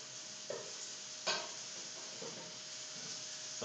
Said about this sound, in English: I'm cooking them in butter.